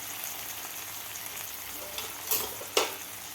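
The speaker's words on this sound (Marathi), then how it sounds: "मीठ घातल्यानंतर व्यवस्थित आपल्याला हलवून घ्यायचं आहे अंड्याला" Eggs fry and sizzle in spicy masala in a kadhai, a steady crackling hiss with two sharper scraping stirs near the end, close and moderately loud.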